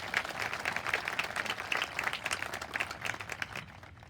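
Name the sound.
graduation audience applause for volunteers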